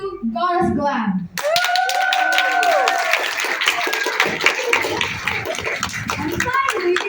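School assembly crowd clapping and cheering loudly for a student performance, after a brief burst of speech, with high-pitched shouts and whoops over dense, rapid hand claps.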